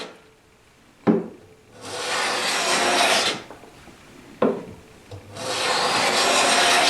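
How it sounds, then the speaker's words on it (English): A hand plane shaves across plywood end grain in two long, loud strokes, each opening with a sharp bite of the blade and then a sustained rasping hiss, separated by a quieter pause. "planing."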